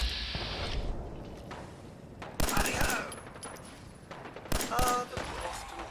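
Gunfire in Fallout 4, a few bursts of shots around a steady game background, with a voice talking over part of it.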